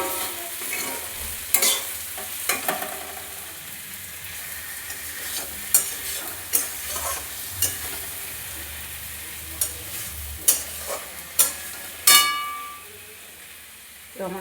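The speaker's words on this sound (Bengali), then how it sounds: "প্রথমে বরবটি আবার ভাজা হচ্ছে" Long beans fry in a pan, a constant sizzling hiss broken by repeated scraping and clacking strokes of a spatula stirring them at close range, with faint background voices.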